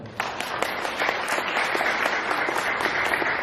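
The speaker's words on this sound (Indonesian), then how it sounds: "tepuk tangan buat Anda" Seminar audience on business success applauds, a lively sustained patter of many hands with some sharper individual claps, fairly close and even throughout.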